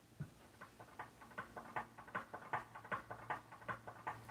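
A keyboard's horse-running sound effect plays as a quiet, fast patter of light hoofbeat-like taps in a steady galloping rhythm, faint under a low background hum.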